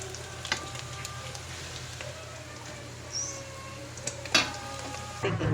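Pork frying in its own rendered fat makes a faint, steady sizzle with scattered soft pops and a few louder crackles near the end, heard alone at close range.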